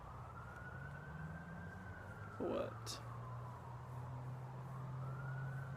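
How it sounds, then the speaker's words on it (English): A police siren wails slowly in the distance, rising and falling under a low engine hum, with a brief spoken word from someone nearby. "The mosquitoes and that bird. And the police car."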